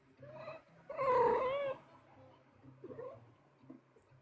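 A vocal pet cat meows in a drawn-out, wavering call, followed by softer, shorter cat vocalizations against a quiet room background.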